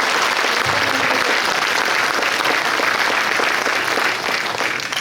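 Sustained applause from an audience at a mayor's New Year greetings ceremony in Auffargis honouring rescue services, dense steady clapping filling the room alone, tapering slightly at the end.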